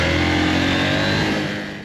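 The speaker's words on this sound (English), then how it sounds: "It's a typical KTM really, in the way you get that airbox growl." A KTM 790 Duke motorcycle engine growls steadily through its airbox, a loud, raw, continuous drone that stays close and level before easing slightly at the end.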